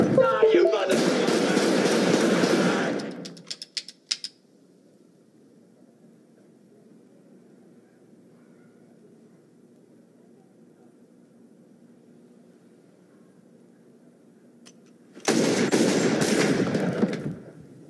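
Gunfire from a hand cannon in the 1994 film Pulp Fiction's apartment scene comes as two loud, rapid bursts of repeated shots at the start and end, separated by a long stretch of quiet low room tone.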